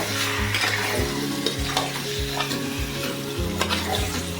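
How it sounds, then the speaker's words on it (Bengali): Marinated chicken frying over raised heat, sizzling loudly while a spoon stirs and scrapes the pan in repeated rhythmic strokes, close up with no voices. "এভাবে করে পুরো মাংসটা আমি সুন্দর করে নেড়ে নেব।"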